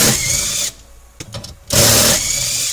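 A power tool removes 10 millimeter bolts from a metal plate on a Nissan or Infiniti car: loud whirring bursts at the start and end, separated by a quieter stretch with a few brief clicks.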